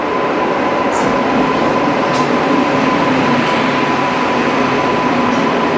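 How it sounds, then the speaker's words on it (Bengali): The Pune Express rolls into a station with a continuous heavy rumble of wheels on rails, loud and steady, with a faint tonal hum and occasional high squeals. "আমাদের ট্রেনটা ঢুকে গেছে"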